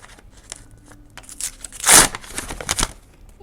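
A plastic Coca-Cola packet is crinkled by hand in short bursts of crackling, with one louder, sharper crumple in the middle, close and dry against near silence.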